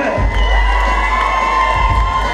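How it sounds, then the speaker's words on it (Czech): A crowd at a racing event cheers and shouts loudly for a Blue Bull team driver, a continuous roar of voices with whoops and high children's shouts, close and sustained. "Prosím obrovský potlesk pro tohoto jezdce."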